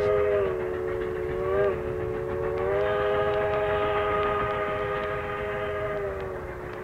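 A steam locomotive sounds a sustained multi-tone whistle over the low rumble of the running train, the chord dipping briefly and holding steady for several seconds.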